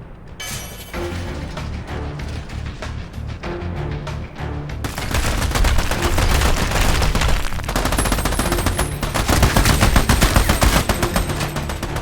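Heavy, continuous video-game gunfire plays as rapid machine-gun bursts and shots pile into a dense, loud barrage. It grows harsher and fuller partway through and never lets up.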